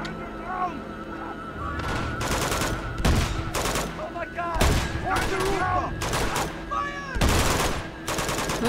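Uncharted 2 video game gunfight with loud, close bursts of rapid gunfire in repeated volleys, separated by short gaps, with voices heard in between.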